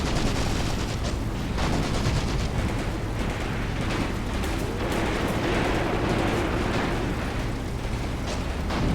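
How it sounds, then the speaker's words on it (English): Dense, continuous battlefield gunfire from the WWII tactics game Graviteam Tactics: Mius-Front, with overlapping rifle and machine-gun bursts and distant booms forming a loud, unbroken roar. "Now the gunfire has begun."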